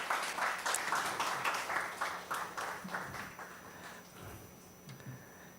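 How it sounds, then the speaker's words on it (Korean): Congregation applause during a Friday worship service at a Korean church: a steady run of loud claps with a rhythmic pulse that thins out and fades toward the end. "다시 한번 큰 박수 해주십시오"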